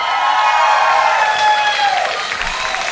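Loud, sustained audience applause with cheering at a live televised Akademi Fantasia singing-competition concert, filling the whole stretch with steady clapping over faint music.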